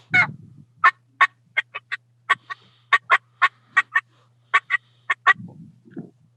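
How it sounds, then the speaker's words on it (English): Excited wild turkey hen yelps and cuts: a rapid, irregular series of about eighteen sharp, close two-note pops and clucks, loud and alone over a faint steady hum, with soft rustling at the start and end. "when you hear a hen that's getting excited"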